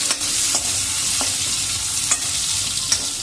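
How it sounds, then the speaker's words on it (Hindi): Taro (arbi) with carom seeds fries in hot oil with a steady sizzle. A spoon scrapes the pan in short strokes about every half second, and no one talks. "इसको हम लाइट ब्राउन होने तक अच्छे से फ्राई कर लेते हैं"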